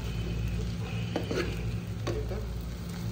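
Maggi noodles with eggs being stirred in a frying pan, steady sizzling hiss with a few soft scraping strokes of the utensil, close and continuous throughout.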